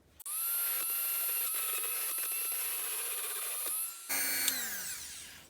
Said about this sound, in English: Get the Dremel on it, see if that'll move it.